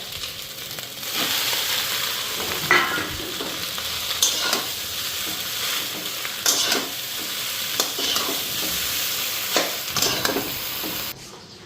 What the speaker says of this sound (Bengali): এদিকে ডিমও ফ্রাই করে নিচ্ছি।